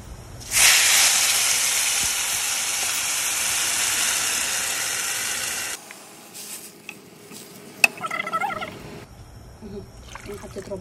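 Water poured into rice frying in a pan with bay leaf, salt, pepper and mastic gives a loud, steady hiss and sizzle for several seconds, then drops to quieter bubbling with faint clatter near the end.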